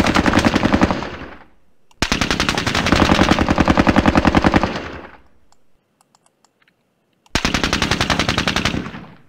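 Automatic gunfire in the Squad Battles Grenada video game, three long rapid bursts of loud, evenly spaced shots separated by a short gap with faint clicks, no voices.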